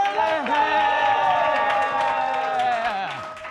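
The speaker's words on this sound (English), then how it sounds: "Make some noise for the homeboy, Beekler!" A stand-up comedy crowd welcoming a comedian with whoops, cheers and clapping, a loud, sustained wall of excited voices that begins to fade toward the end.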